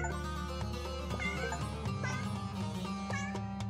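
Cats meowing in the video game 100 Istanbul Cats, several overlapping meows over a steady layer of game music, with no talking.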